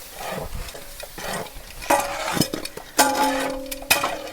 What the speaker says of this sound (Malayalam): ഇനി നമുക്ക് അതിലേക്ക് ചിക്കൻ ഇടാവേ